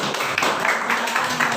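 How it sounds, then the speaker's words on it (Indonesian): Classroom applause for a presenting student group, a short burst of many hands clapping at moderate volume with irregular claps over a low background murmur. "Kita kasih tepuk tangan untuk kelompok 2 dulu."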